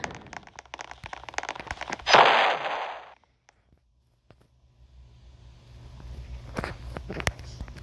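A cannon fires in the Roblox game Ragdoll Engine, one loud broadband blast about two seconds in that rings briefly before fading into quiet, with some scattered clicks and thuds around it.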